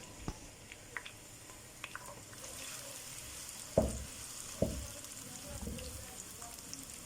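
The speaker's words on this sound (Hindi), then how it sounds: "जब ऑयल गर्म हो जाए तो प्याज डाल देंगे" Onions frying in about a cup of hot oil for achar gosht, a soft steady sizzle with a couple of louder clattering stirs midway and faint clicks throughout.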